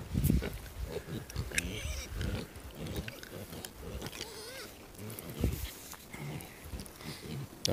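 Low pig grunts and snorts close by, irregular and scattered, with some noisy handling and movement sounds mixed in.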